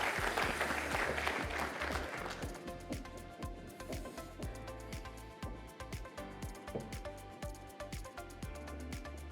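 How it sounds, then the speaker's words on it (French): Applause from the audience at a corporate award ceremony in Luxembourg, a dense wash of clapping that fades into scattered, distinct claps in a large room. "On les applaudit une dernière fois."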